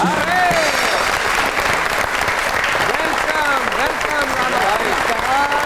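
A television studio audience welcomes guest Moammar Rana on a comedy talk show with loud, continuous applause, cheering voices and whoops rising over the dense clapping throughout.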